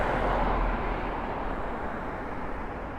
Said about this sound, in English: the sound you can hear in the background is cars going past